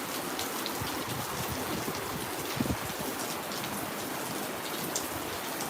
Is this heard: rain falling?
yes